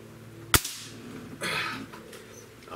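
A Beeman Bison dual-barrel air rifle fires a single .22 caliber pellet, a sharp, close crack followed by a faint ring, then a softer hiss of handling noise a second later.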